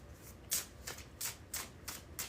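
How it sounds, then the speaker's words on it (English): Tarot cards being shuffled in a series of quick, crisp riffling bursts at a steady rhythm, about seven short rasps close to the mic with no voices. "All right, 3 more shuffles."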